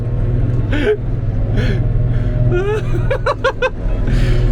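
A farm vehicle carting silage rumbles with a steady low engine drone throughout, under excited voices, chatter and laughter nearby.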